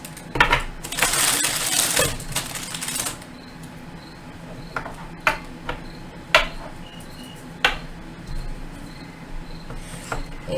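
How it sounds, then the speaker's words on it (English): Oracle cards set down one by one on a table, giving soft scattered taps and light clicks at irregular intervals, close and fairly quiet, with a brief rustling shuffle near the start. "So let's place these cards."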